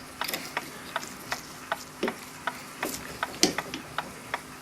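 A clock mainspring winder ratchets while a Gilbert kitchen clock spring is serviced: a steady series of crisp mechanical clicks at an even pace, close and alone.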